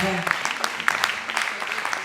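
Church congregation applauding and cheering for ministers, quick scattered claps with raised voices, fading after an opening held tone.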